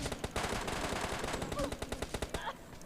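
Rapid bursts of MK14 rifle fire in a video game crackle nearby, dense and repeated shots with a few louder isolated reports near the end.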